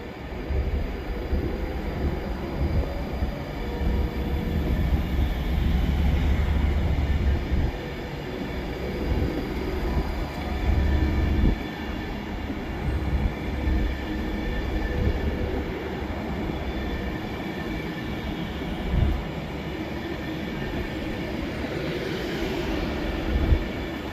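A Class 390 electric train, unit 390127, running from London Euston to Glasgow Central, passes Carlisle with a continuous loud rumble and rolling wheel noise that swells and holds steady throughout, with no voices.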